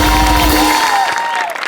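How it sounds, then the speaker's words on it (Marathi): Applause and crowd noise from a studio audience at a Marathi comedy show, a brief, loud burst with tonal music running beneath it. "त्यांचं टाळ्यांच्या गजरात स्वागत करूया."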